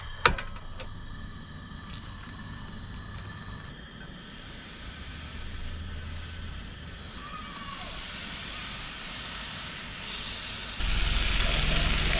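Bacon and eggs sizzle in a pan at a campsite, a steady broadband hiss running throughout with a few sharp clicks at the start and the frying growing louder near the end.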